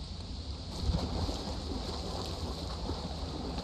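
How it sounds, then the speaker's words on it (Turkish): Steady rain falling during a match of the video game Lethal Company, a continuous, even hiss and rumble with no voices. "yağmurlu hava"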